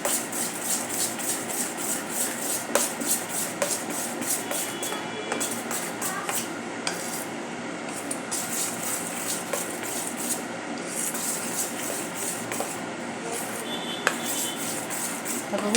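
Gram-flour batter with a pinch of baking soda being whisked and stirred in a bowl for mirchi vada: steady, continuous scraping and rubbing close up, with occasional light clinks of the utensil against the bowl, and no talking.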